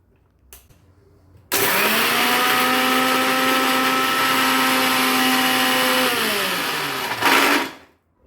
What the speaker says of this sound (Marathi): सगळं ते मिक्सरच्या भांड्यात टाकून आणि मिरच्या आधी दळून घ्यायच्या मिरच्या आणि लसूण